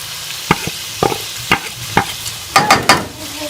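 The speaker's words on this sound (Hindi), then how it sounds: "हम इसको मिक्स करके 1 से 2 मिनट मसाले के साथ भून लेंगे" Chicken being stirred and roasted in ghee with freshly ground whole spices, a loud close sizzle punctuated by regular scraping strokes of a spoon against the pan, roughly every half second, then a quicker burst of stirring.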